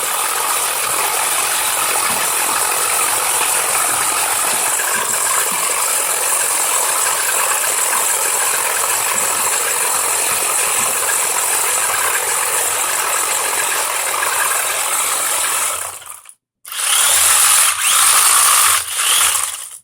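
A faulty servo on a Tamiya TA01 RC car makes a loud, continuous mechanical rattling and grinding close by, then cuts out briefly and resumes in short bursts.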